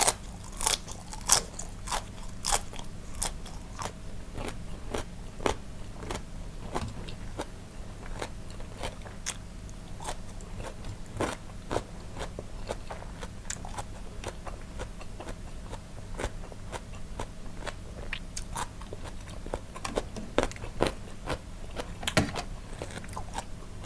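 Someone eats crunchy shrimp marinated in fish sauce, making repeated loud crisp bites and crunches in an irregular chewing rhythm, close up with no talking.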